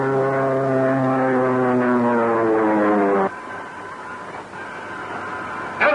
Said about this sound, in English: They're in a power dive.